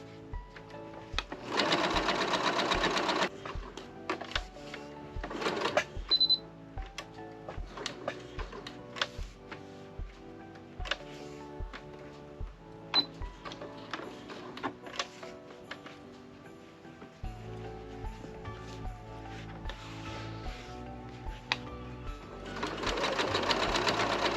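A sewing machine stitching the seam of a fabric Christmas ornament, bursts of fast mechanical whirring alternating with pauses and slower ticking stitches, close and clear, without talk.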